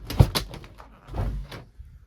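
A studio entryway door swings shut with a solid thud near the start, followed by a few quieter knocks and rattles from the door settling, close by and with no talking.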